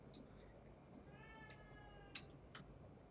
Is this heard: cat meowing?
yes